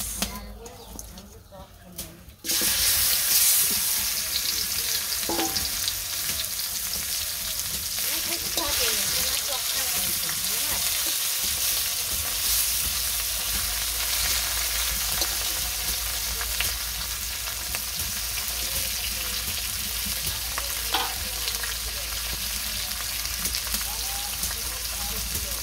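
Fish sizzling in hot oil, a steady loud hiss and crackle that sets in after a brief quieter start and carries on continuously throughout.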